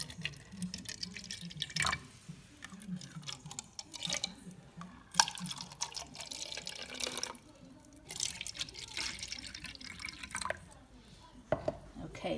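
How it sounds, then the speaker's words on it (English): Water is poured into small pots to mix ceramic glaze tests, heard as intermittent trickles and splashes with drips and light clinks between pours, quiet and close up. "once I've poured one with about 75 to 100 ml of water, I can then just use that as a reference and fill the other ones up"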